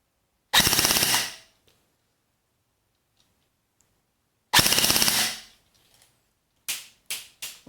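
A Force Core FC-109 M4 airsoft electric gun running on an 11.1 V LiPo battery fires two loud full-auto bursts of about a second each, separated by silence, followed by several short single clicks.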